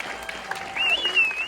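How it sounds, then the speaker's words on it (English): Brief applause from an audience at the Valley Film Festival after a screening of A Little Family Drama, a short burst of clapping mixed with a voice and a faint high tone. "a round of applause for a Little Family Drama"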